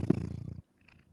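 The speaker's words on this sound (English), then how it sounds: "Do you hear his purring?" A cat purrs close by in a soft, rapid, rhythmic rumble lasting about half a second before it stops abruptly, leaving near silence.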